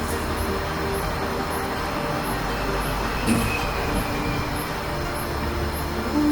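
A Pink Line monorail train on a test run rumbles past at a distance in Bangkok, a steady low rolling noise with faint periodic high clicks and a slight swell midway.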